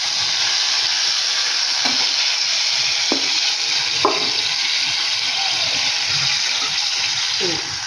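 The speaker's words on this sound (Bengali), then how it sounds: "এটাকে এবারে তেলের মধ্যে দিয়ে দিলাম" Steady, bright sizzle of ginger, garlic and onion paste frying in hot oil for Schezwan sauce, a continuous hiss with a few soft utensil taps against the pan.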